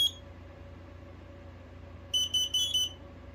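A Kidde 900-CUAR smoke and carbon monoxide alarm gives a brief high beep, then a quick series of four shrill piercing beeps, loud and close over a quiet room hum.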